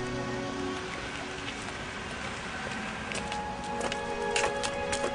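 Steady rain on a wet day patters continuously on surfaces, a dense, even hiss with scattered sharper drops that grow a little louder toward the end.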